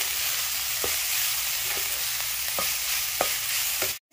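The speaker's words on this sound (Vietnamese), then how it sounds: "Trộn đều rồi" A seasoned filling seasoned with mushroom seasoning granules, for savory bánh đúc, sizzles steadily in a frying pan. A utensil stirs and scrapes through it in regular strokes about every half second until the sound cuts off abruptly near the end.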